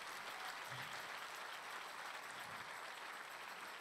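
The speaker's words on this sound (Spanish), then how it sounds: "Denle un aplauso a Él." A church congregation applauds in a steady, diffuse patter, heard faintly and at a distance, continuing evenly throughout.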